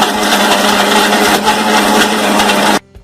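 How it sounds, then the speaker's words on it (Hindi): A kitchen mixer grinder blends banana, honey and milk into a shake, a loud steady whirring grind that runs continuously and then cuts off abruptly near the end. "इसे हम लोग मिक्सी में ग्राइंड कर लेंगे।"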